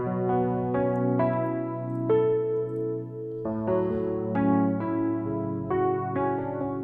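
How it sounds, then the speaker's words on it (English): A regular piano plays a clean, melodic sample layer, with single notes and chords struck at a steady, unhurried pace and left ringing, close and alone without any talking. "with a piano, just a regular piano"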